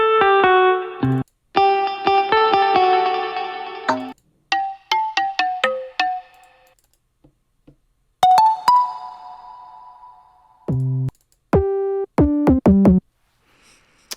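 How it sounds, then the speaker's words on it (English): Bright, synthetic guitar-like notes from the Nexus 3 plugin play in short phrases with pauses between them, some sustained and warbling, others plucked in slow arpeggiated runs. "Like, that guitar sounds good."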